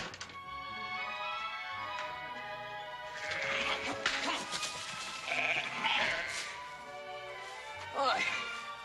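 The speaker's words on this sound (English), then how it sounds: "I never knew a couple dozen sheep could be so ornery." A couple dozen sheep bleat in overlapping, wavering cries, fairly distant, with a steady outdoor background hum underneath.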